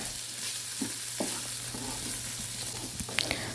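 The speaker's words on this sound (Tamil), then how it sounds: "இப்போ இந்த தேங்காய் பூ சேர்த்துட்டு நல்லா வந்து மிக்ஸ் பண்ணி விட்டுக்கிறேன்" A spoon stirs desiccated coconut into a chayote stir-fry in a pan, giving soft scraping strokes over a steady low sizzle, with a few sharper clinks of the utensil against the pan near the end.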